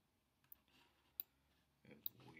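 Faint computer mouse clicks sound while working in business dashboard software, three sharp isolated ticks spread across a quiet room.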